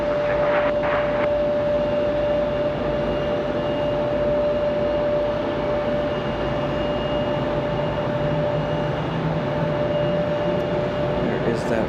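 American Airlines Boeing 777 heavy jet departing Raleigh-Durham for London Heathrow: a loud, steady engine roar sustained throughout, with a constant whining tone and voices talking over it.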